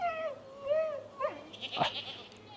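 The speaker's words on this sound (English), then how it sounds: "I hear a goat crying as well, so I think I got one stuck in the fence" A goat stuck in a fence on a farm bleats nearby in a wavering, drawn-out cry, followed by a sharper squeal, over a faint steady background hum.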